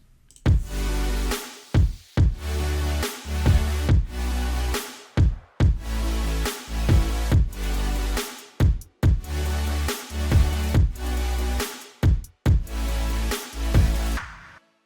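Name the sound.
melodic EDM drop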